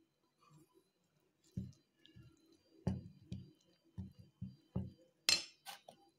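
Batter of chickpea flour and red chili powder being stirred in a bowl as water is added bit by bit for cucumber chilla, giving a run of soft clinking, tapping and squishy knocks of a spoon against the bowl, close and fairly quiet.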